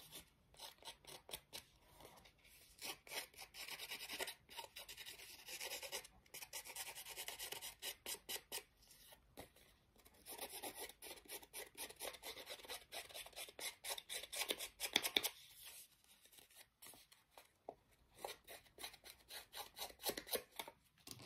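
Paper being rubbed and scratched to distress it for a card-making project, a steady run of dry rasping and scraping strokes, close and fairly loud, with brief pauses between bursts and no voices.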